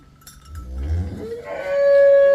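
A cow lets out a long, loud moo that swells and holds its pitch, close by, with farmyard rumble underneath, at a farm selling cows and buffalo.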